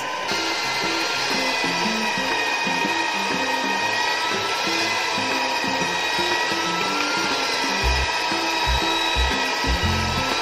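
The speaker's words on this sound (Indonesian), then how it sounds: "Kita mixer sampai adonannya kalis." An electric mixer kneads pastel pastry dough in a bowl, a loud steady motor whine with rhythmic low thumping of the beaters as the dough turns, no talk.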